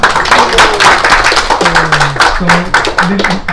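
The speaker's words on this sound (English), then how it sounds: "let's give a big round of applause one more time" Audience applause for a speaker at a devotional talk, a steady patter of many hands clapping throughout, with a voice speaking over it.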